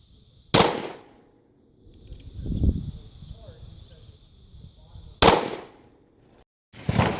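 Two sharp, loud .22 Magnum rifle shots crack a few seconds apart during a penetration test, each with a short decay, a third impact starting at the end, and brief talking and handling noise in between.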